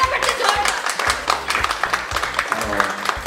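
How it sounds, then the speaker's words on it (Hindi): A quick burst of applause at a Star Plus music launch event for Tu Sooraj, Main Saanjh Piyaji, dense clapping that runs steadily, with a voice speaking over it. "भाई तालियां बजा दो एक फटाफट से जोर"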